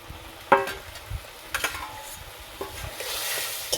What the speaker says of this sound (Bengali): এরপর আমি ভেজে রাখা ভেন্ডিগুলো দিয়ে দেবো।